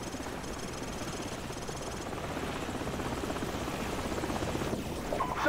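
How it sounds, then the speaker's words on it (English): A helicopter's rotor thumps steadily and drones loudly overhead in the war shooter Call of Duty 4: Modern Warfare, holding near and constant throughout with faint battle noise behind it. "Helicopter."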